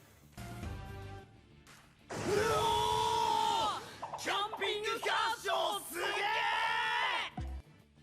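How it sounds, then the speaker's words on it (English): Anime characters yell loudly in long, strained bursts, one sustained shout followed by a run of choppy, overlapping cries and another drawn-out yell, with quieter talk at the start. "Why do they think yelling is the move here?"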